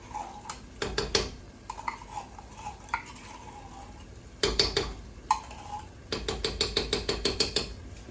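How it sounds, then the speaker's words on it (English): A spoon stirs tomato paste into spaghetti sauce with beef strips in a metal pan, making repeated scraping clinks and taps. The strokes come in uneven bursts, with a brisk run of clatter near the end. "Now we're gonna mix this together."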